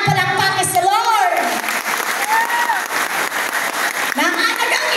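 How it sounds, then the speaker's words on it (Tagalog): Audience applause at a youth summit worship gathering, clapping under a speaker's voice and singing that carry on through the crowd noise. "palakpak sa Lord"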